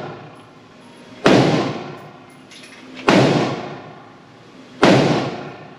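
Three loud, sharp gunshots from a Colt King Cobra .357 revolver, spaced roughly two seconds apart, each followed by a long decaying outdoor echo, with no voices.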